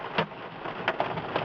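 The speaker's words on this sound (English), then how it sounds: "How big of a hail do you think this is?" Large hail, 1 to 2.5 inches, pours down during a storm in Mineola, Kansas, a dense steady roar of pelting ice with several sharper, heavier impacts standing out up close.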